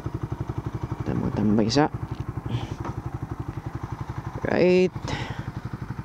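Motorcycle engine idling with steady low chugging pulses on a provincial ride from Davao to Carmen, North Cotabato, with brief louder revving bursts, a rider speaking over it.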